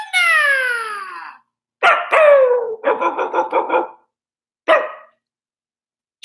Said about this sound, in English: Do you want to see my new dog?